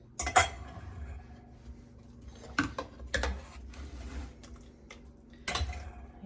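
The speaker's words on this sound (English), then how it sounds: "Using a slotted spoon to put this in the jar to where I think it's, a 1/2 inch or so headspace." A slotted spoon scooping jellied cranberry sauce into a canning jar, with a few scattered metallic clinks and taps against glass, quiet and close, separated by gaps with a faint background hum.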